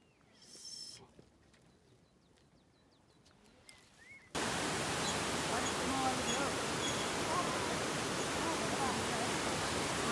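The Tangu river rushes in a dense, steady roar of flowing water on a night trek, loud and continuous after a quieter opening with faint sounds and a voice.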